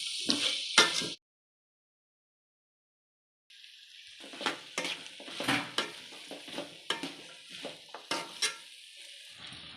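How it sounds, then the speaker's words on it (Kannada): Cabbage and mixed vegetables stir-fried with salt in a pan for fried rice: a brief burst of sizzling and scraping, a pause, then repeated spatula stirs and clinks against the pan, fairly faint, no talking. "ಉಪ್ಪು ಹಾಕ್ಬಿಟ್ಟು ಮಿಕ್ಸ್ ಮಾಡ್ಕೊಳ್ತಾ ಇದ್ದೀನಿ."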